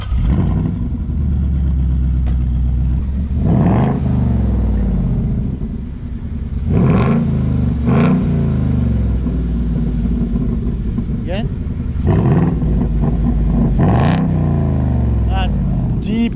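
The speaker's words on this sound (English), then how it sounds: "And it's got the active exhaust." A Mercedes C63 AMG V8 active exhaust rumbles deeply, swelling with repeated revs over a steady idle, loud and close, with talking over parts of it.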